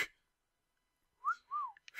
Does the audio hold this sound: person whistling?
yes